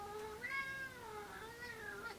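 A cat gives a long, drawn-out meow that wavers up and down in pitch, faint but clear against a quiet background.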